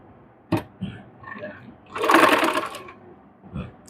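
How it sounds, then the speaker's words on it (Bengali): A sewing machine stitches a facing onto the neckline of a readymade dress in one short burst of close whirring, framed by a few soft handling knocks in an otherwise quiet room. "এরকমভাবে মাঝখান দিয়ে আমি সেলাই দিয়ে আটকে নেবো"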